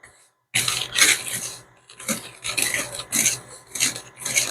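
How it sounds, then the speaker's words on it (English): A whisk scrapes briskly through dry cake mix of flour and baking soda in a bowl for a pumpkin dump cake, giving close, repeated raspy strokes in uneven bursts after a brief silence. "And then we get another whisk. So this is your dry cake mix."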